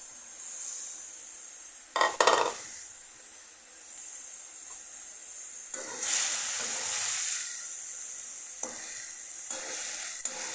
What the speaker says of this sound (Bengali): এখন শুধু এটাকে নাড়াচাড়া দিয়ে আর কি ভাজবো পুরাটা।